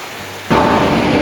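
A sudden loud rush of heavy rain at a beach in El Nido, Palawan, bursts in after a quiet moment and keeps pouring steadily, close and enveloping.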